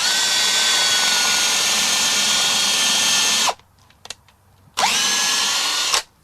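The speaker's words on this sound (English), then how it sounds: "Once you drill your holes" A power drill bores holes into a wooden log, whining loudly and steadily for several seconds, then after a pause with a couple of small knocks, a second shorter burst of drilling.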